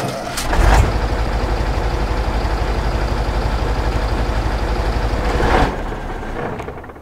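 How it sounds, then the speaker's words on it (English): Case IH 2150 tractor engine in the Farming Simulator game runs at a steady, loud diesel drone, with a brief louder swell near the start and a rise before it cuts off near the end; no one speaks. "let me turn on the engine and let you guys hear this"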